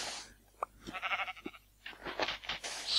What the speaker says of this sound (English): It's probably a sheep.